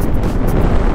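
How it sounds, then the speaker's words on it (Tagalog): Strong wind buffets the microphone of a motorcycle rider on the road, a loud, steady low roar with gusty rumble filling the whole second and no voice heard. "Lakas ng hangin dito kayo, parang nililipad ako."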